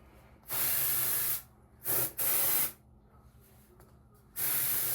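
Dry shampoo sprayed from an aerosol can onto hair: three loud, close hissing bursts, the first about a second long, then two short ones close together and a fourth starting at the end, with quiet between.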